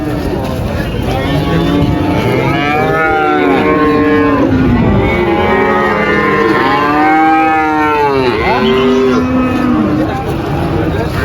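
Limousin and crossbred cattle at a livestock market moo loudly and continuously, many overlapping drawn-out calls close by, with a steady crowd murmur underneath.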